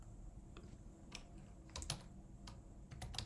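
Keystrokes on a computer keyboard while entering Django commands in a cloud IDE, a few scattered taps and then short quick bursts, close but fairly quiet over a low background hum.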